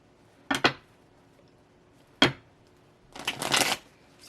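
A deck of tarot cards shuffled up close: two quick riffles, then a longer run of fluttering card slaps, in a quiet room.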